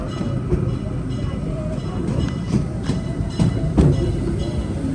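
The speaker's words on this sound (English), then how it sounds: "Remain seated until the train has come to a full and complete stop." A Disneyland Railroad train rumbles steadily on the rails as it slows toward a stop at the station, with a few clacks and brakes under a spoken announcement.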